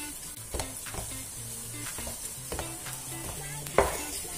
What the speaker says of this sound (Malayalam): ഈ ഏലക്ക നന്നായിട്ട് ചക്കയുടെ എല്ലാ ഭാഗത്തും ഒന്ന് പിടിക്കുന്നവരെ നമുക്കൊന്ന് ഇളക്കി കൊടുക്കാം.